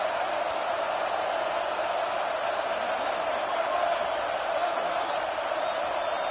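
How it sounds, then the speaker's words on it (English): A football stadium crowd roars steadily at UCLA, a dense, sustained wall of cheering and noise filling the whole stretch without letup. "Listen to this crowd just shaking the girders of this place, trying to help their defense"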